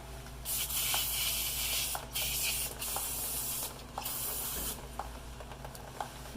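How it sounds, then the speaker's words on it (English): Aerosol brake cleaner sprays in several sustained hissing bursts with short pauses between them, close and fairly loud over a low background hum, during front CV axle work on a 2003 Toyota 4Runner. "So now I'm gonna get some brake cleaner."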